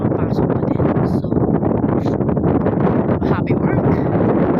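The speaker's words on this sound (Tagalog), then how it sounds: "Mahangin na siya" Strong wind buffets the microphone outdoors on a fine morning, a loud, continuous gusty roar with voices talking underneath.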